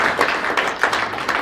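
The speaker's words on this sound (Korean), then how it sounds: "박수 주시기 바랍니다." An audience claps at a welcome ceremony for a visiting chairman in Atlanta, giving loud, dense, overlapping applause that carries on steadily.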